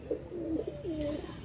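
A pair of Pakistani teddy pigeons, male and female, coo softly in a few short rolling phrases, close by against a quiet background.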